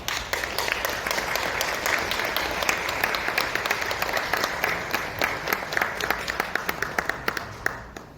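Audience applause fills a hotel event hall during an international academic forum, steady dense clapping for a group chairman being welcomed to the stage, with sharper individual claps standing out near the end.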